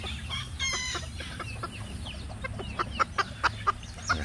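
A plump hen held in someone's hands clucks in a series of short, close, sharp notes that grow louder toward the end, over a faint background hum.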